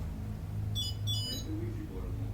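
A light beam sensor alarm briefly sounds, two short high electronic beeps heard faintly over a low room hum.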